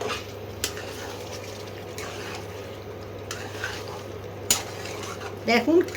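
A spoon stirs dum chicken with yogurt in a pot over low heat, giving a soft steady scraping with a few sharper metallic clinks toward the end.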